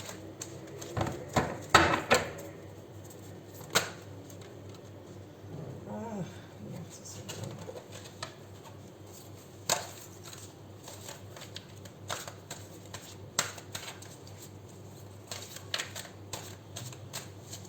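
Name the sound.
large tarot cards being shuffled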